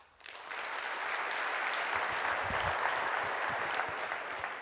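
An audience bursts into applause, a sustained wash of clapping from a crowd that builds quickly and stays steady throughout.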